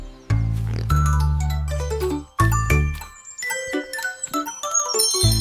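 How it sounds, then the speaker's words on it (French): Resonant bells chime in a series of overlapping strikes, deep tones alternating with brighter ringing that lingers and decays, in a French children's song. "les cloches sonnaient"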